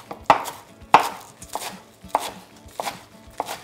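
A knife chops a bunched-up pile of vegetables for soup on a board, landing about seven sharp, close strikes at an uneven pace, with no talking.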